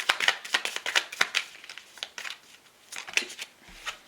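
Tarot cards are drawn from a shuffled deck, giving a run of quick papery flicks and slides, close and fairly crisp, in an irregular rhythm with brief pauses and no talking.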